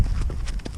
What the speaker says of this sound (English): The cool thing about this place here that's always fun for me is the variety of color of horses.